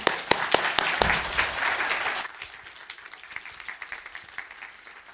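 A church congregation at a Sunday worship service claps to welcome the pastor to the front, loud dense applause for about two seconds that drops quickly to scattered lingering claps.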